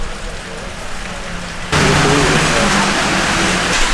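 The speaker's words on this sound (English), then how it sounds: "it is still pouring down rain" Heavy rain pours down in Bali near Sekumpul Waterfalls, a dense, loud hiss that jumps sharply louder partway through and then holds steady, with faint voices underneath.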